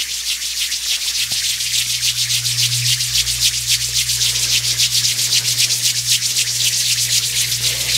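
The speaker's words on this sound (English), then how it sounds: "Gently rub your hands." Palms being rubbed together during a gentle yoga class done from bed, a steady rapid swishing rub that carries on without pause, close and fairly loud, with no talk.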